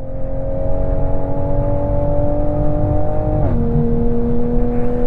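Toyota Supra on the Interlagos race track, its engine droning loud and close in a steady rising pull that drops sharply at a gear change before it climbs again.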